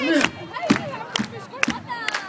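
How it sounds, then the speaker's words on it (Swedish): A crowd of schoolchildren claps along in a steady rhythm, sharp bursts of hand claps landing roughly every half second with some shouting voices mixed in. "Bravo, fortsätt applådera."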